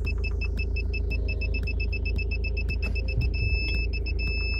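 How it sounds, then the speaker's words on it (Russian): Rapid electronic parking sensor beeping from a Great Wall Wingle 7 repeats steadily over a low engine hum, with a continuous tone near the end. "Видеопарктроники, они помимо того, как пищат"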